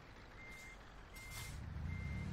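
Truck reversing while maneuvering in Euro Truck Simulator 2: steady repeated reversal beeps over a low diesel engine rumble that grows slightly louder, quiet overall.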